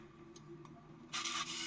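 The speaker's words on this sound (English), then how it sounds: "it opens the shutter" A Nikon RF2 compact film camera's shutter mechanism runs, faint small ticks followed by a brief whirring mechanical burst, quiet and close.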